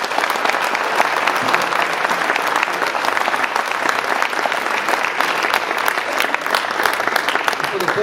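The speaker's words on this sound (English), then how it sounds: "But how about one more round of applause?" Audience applause at a Republican primary debate for a US Senate seat in Iowa, steady dense clapping sustained throughout, loud and close.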